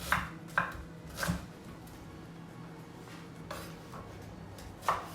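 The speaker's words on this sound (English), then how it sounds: "And we start chopping, preparing all the ingredients." A knife chops vegetables on a cutting board in a handful of sharp, sparse knocks, separated by pauses, against quiet room tone.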